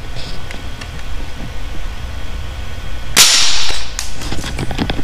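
Homemade explosive reactive armor mounted on a tank chassis detonates in a single sharp, loud blast over a background engine rumble.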